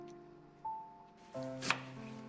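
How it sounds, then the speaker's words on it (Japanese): A knife cuts through a halved onion on a cutting board while nikujaga is being prepared, a few close, sharp strokes standing out against a steady background hum. "玉ねぎを半分に切ってから玉ねぎの軸を取っていきます。"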